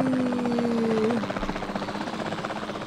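A capture team helicopter in the video game Jurassic World Evolution 2 whirs loudly with a rising tonal whine, then settles into a pulsing, rhythmic rotor chop.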